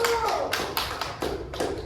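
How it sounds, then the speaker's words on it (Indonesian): Classroom students clap for a group in a quick, rhythmic series of sharp close claps over a couple of seconds, with a brief voice at the very start. "Tepuk tangan untuk kelompok 1."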